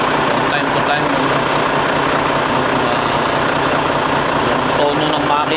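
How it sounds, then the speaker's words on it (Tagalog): A car engine idles steadily and loudly with the hood open, giving a dense continuous rumble throughout, while someone talks over it. "Pinakabisado ko yung normal na tunog ng makina niya every time na i-start ko siya"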